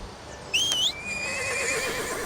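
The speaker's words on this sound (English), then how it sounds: "you will see Lilynut horses, also here on Mirage Isle" A Lilynut horse in the ArcheAge online game on Mirage Isle gives a single loud, high whinny lasting about half a second, followed by a softer trailing neigh and a light ambient game hum, with no talking.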